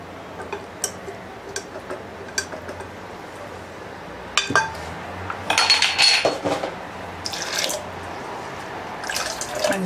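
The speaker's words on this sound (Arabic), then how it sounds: "كما لاحظتوا ها هي شرباتو بزاف، لذا فانا غادي نزيد الماء." Water is added to baghrir batter in a bowl. Light clinks come first, then louder bursts of pouring and sloshing liquid nearby.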